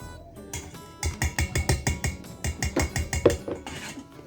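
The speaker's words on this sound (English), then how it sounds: "I'm giving my egg mixture a little whisk here." An egg mixture is whisked briskly in a bowl, giving quick, rhythmic metallic clinks and taps that come in close, steady bursts.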